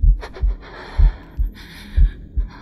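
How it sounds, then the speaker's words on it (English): A horror game's player character pants heavily and close, with rhythmic breaths and low thumping pulses recurring about twice per second, loud and steady with no talk. "Stop breathing so dang hard!"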